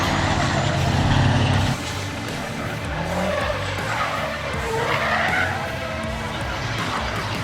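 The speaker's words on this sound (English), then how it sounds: "Amoroso had a big, smoky spin at turn 10 while trying to pass Trillwitz" A super truck in a 2017 Giti Super Truck Nationals race spins out at turn 10, with loud sustained tyre skidding over roaring engine noise and a possible voice blended into the racket.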